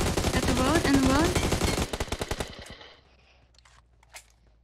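Rapid automatic gunfire in PUBG Mobile rattles out as a loud burst of closely spaced shots, then stops. A few scattered, fainter shots and clicks follow against quieter game sound.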